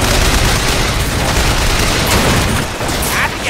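Machine gun fire in the video game Bioshock Infinite forms a loud, dense, continuous rattle with booming low end, sustained throughout with no pauses.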